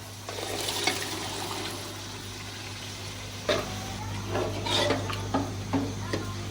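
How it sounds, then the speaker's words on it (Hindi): Water poured into a pot of boiled black chickpeas cooked with cinnamon and salt, a continuous splashing wash followed by several sharper scraping, stirring knocks near the end. "मैंने इसमें पानी ऐड कर दिया है।"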